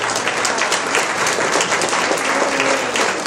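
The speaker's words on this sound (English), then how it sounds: "let's give another round of applause for Miles Wilson, please." A crowd applauds loudly and steadily, a dense wash of many hands clapping at once without a pause.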